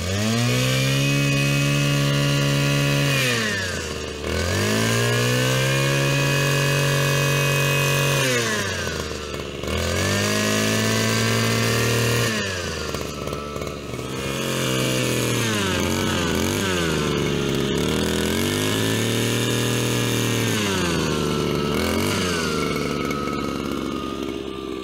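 A petrol multi-function garden tool with a hedge trimmer attachment cuts a hedge, its two-stroke engine repeatedly revving up high and dropping back to idle in loud, close bursts, no talking.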